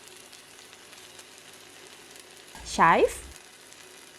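Prawn kuey teow flat rice noodles stir-fried in a pan with bean sprouts, tofu and prawns, a steady close sizzle with a brief louder burst of frying midway, a voice speaking briefly over it.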